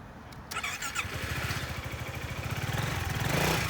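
A used 2018 Yamaha XMAX 300cc automatic scooter with ABS, its engine starting after a brief quiet moment and then idling with a steady, close putter that swells slightly toward the end.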